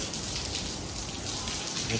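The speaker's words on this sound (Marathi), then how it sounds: "पाऊस पडतोय" Steady rain falling, a dense even hiss with scattered drops, continuing throughout without a break.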